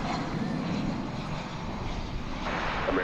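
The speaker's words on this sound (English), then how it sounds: "I hear the Vegas plane now." Airplane passing at DFW Airport, a broad steady engine roar that holds at moderate loudness throughout, heard from a distance with faint wind noise and no talking.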